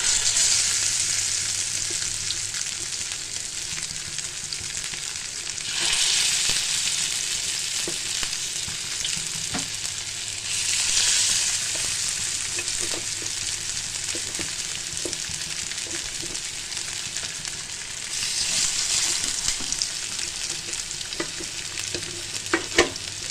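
Fish pieces fry in oil on a hot pan, giving a long, even sizzle that swells and eases in waves, with scattered sharp pops and crackles and no talking.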